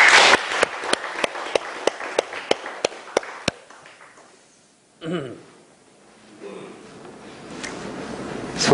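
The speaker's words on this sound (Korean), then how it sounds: "박수 한 번 더 합시다" Audience at a Korean church lecture gives a brief round of applause: about a dozen sharp, evenly spaced claps ring out close and loud, then fade into quieter room noise and faint voices.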